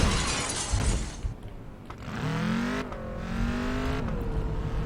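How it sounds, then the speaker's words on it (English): Car slamming into a tree in the racing video game Flatout 3, a loud crunching impact with shattering debris followed by the engine droning and revving on. "So I totally just ran into a tree"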